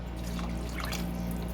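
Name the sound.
pouring a can of water into a cooking pot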